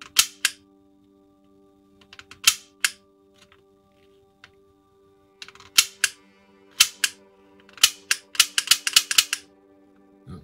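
A vintage 1974 Hasbro Ghost Gun toy fires at a target with crisp, dry mechanical clicks and snaps. They come singly at first, then in quick, dense clusters, close and fairly loud against a faint steady hum.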